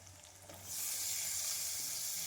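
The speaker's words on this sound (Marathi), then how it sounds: "छान परतून घेऊया तेलामध्ये काकडीला।" Cucumber pieces sauté in hot oil in a pan, a quiet hiss that jumps to a steady, bright sizzle partway through and holds.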